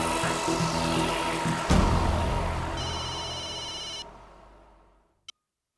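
A phone rings during an outgoing call in a Hindi TV sitcom episode: a steady repeating ring tone that fades out and ends with a brief click, with no talking.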